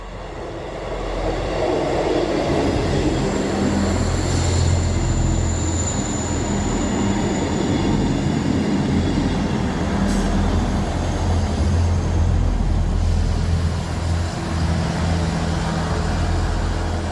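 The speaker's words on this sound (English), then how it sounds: "One 158881 heading on the 1948 South Western Railway service from Basingstoke to Salisbury." South Western Railway Class 158 diesel multiple unit passing on a Basingstoke to Salisbury service, a steady loud rumble of engine and wheels on rail that builds quickly and holds, with faint squeals, no voices.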